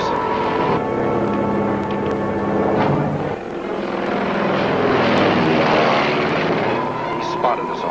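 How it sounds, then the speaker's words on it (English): A propeller airplane drones overhead in a 1946 film scene, its steady engine roar filling the whole stretch and swelling slightly as it passes, with voices speaking over it. "That plane's headed this way."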